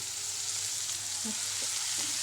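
Fenugreek leaf bhaji sautéing in a pan with red chilli powder, giving a steady high hiss of sizzling with a few soft stirring scrapes, close and continuous with no talking.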